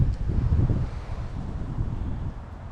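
Breezy outdoor wind buffets the microphone at a mobile home wash site, a steady low rumbling roar that swells slightly and eases off, with no other clear sounds.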